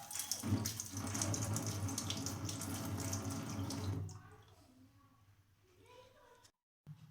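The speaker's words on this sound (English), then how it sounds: "the water will start flowing through the hole without any resistance" Water rushes loudly through a solenoid valve for about four seconds, then drops to a quieter trickle before cutting off.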